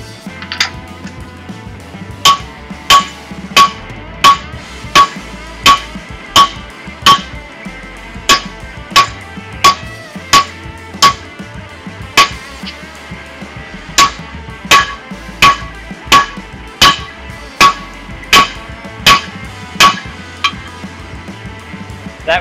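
A blacksmith hammers a hot steel bar flatter for making tongs: a long steady series of sharp, ringing blows, about one each second, close and loud, with a short pause midway.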